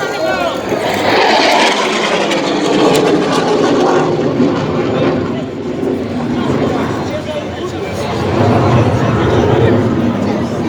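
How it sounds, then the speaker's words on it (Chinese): An IDF Ching-kuo fighter jet in an airshow flyby over the Tainan air base, accelerating with afterburner; a loud, sustained jet roar that swells toward the end, with crowd chatter underneath. "IDF持续加速至时速1100公里，开启最大动燃器"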